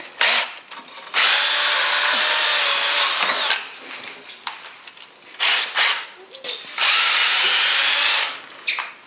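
A power tool deburrs countersunk holes in a restored car part, rain guard work on Al Capone's car, in several loud whirring bursts separated by short pauses and scraping handling sounds.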